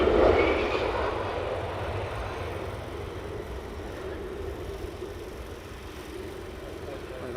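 A military jet roars overhead at RAF Lakenheath at night, a broad loud rumble that peaks at the start and then settles into a sustained, slowly fading engine drone.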